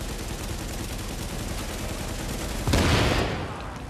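Rapid, continuous automatic fire from an enemy turret in Tom Clancy's The Division, a dense rattling stream that surges into a louder, heavier burst near the end.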